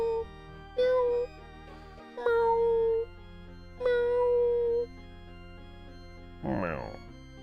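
A person's voice imitates a cat, giving three drawn-out meows in a row, close and clear, followed by a brief breathy vocal burst.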